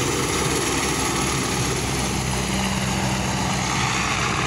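A helicopter taking off from a golf club helipad on Denarau Island, Fiji, roars steadily up close, loud rotor and engine noise filling the whole stretch without letup.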